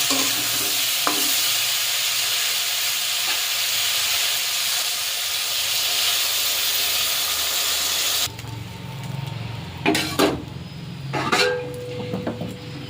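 Water poured into sautéed vegetables with turmeric in a hot pan, a loud continuous rushing sizzle and hiss for several seconds, then cutting to quieter bubbling with a few clattering knocks.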